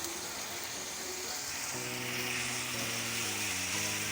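Onions tip into chicken keema sizzling in a pan, sending up a dense, continuous loud frying hiss, with a faint steady humming tone underneath in the second half.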